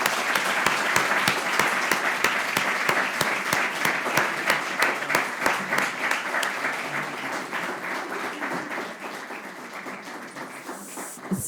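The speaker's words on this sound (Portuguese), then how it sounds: "queria pedir uma salva de palmas para vocês e para elas" Audience applause after a university student-union election debate session, steady dense clapping from a room of people that holds strong for several seconds, then thins and softens toward the end with a few last distinct claps.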